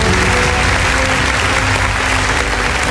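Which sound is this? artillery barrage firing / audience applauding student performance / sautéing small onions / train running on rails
audience applauding student performance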